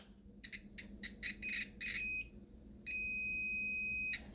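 A multimeter beeps during a continuity test on a lid switch: a run of short, quick beeps, then one long steady tone of about a second and a half, close and clear over a low background hum.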